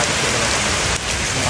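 Light drizzle falling during outdoor wall climbing, heard as a steady, loud, even hiss of rain with no voices.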